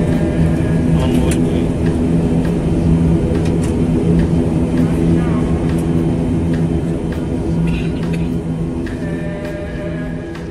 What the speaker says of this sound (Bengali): আমাদের বিমানের গতি আস্তে আস্তে বৃদ্ধি পাচ্ছে।